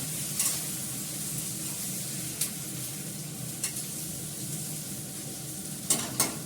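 A small splash of water added to a sizzling pan while paneer cooks, giving a steady hiss and crackle with a few brief sharper spits and utensil clicks, close and moderately loud.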